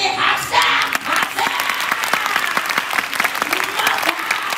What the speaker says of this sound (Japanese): とりあえず何だったら盛大に拍手だ。